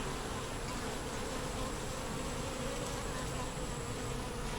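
Honey bees hum steadily around a small, slow-building nucleus hive, a dense continuous buzz held at an even level throughout with no voices.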